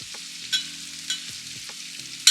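Grated ginger and scotch bonnet pepper sautéing as aromatics in a pan, a gentle hiss punctuated by regular stirring scrapes and a few brief spattering bursts, close with no voices.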